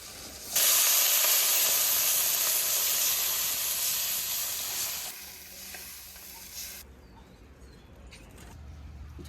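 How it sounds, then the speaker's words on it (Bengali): Crab curry gravy with fried onion and salt bubbling in a pan for a crab and poppy-seed dish, a loud steady hiss and sizzle that eases off toward the end. "ঝোলটা ফুটতে লাগুক"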